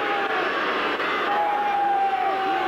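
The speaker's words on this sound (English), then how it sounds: "The crowd loudly booing that one." Rugby league stadium crowd at a 1981 Cronulla versus North Sydney match, a loud, continuous broad roar of disapproval sustained throughout with a faint steady tone running beneath it.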